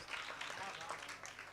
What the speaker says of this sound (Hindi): जोरदार तालियों से इस्तकबाल करिए जनाब नवीन नवाज साहब का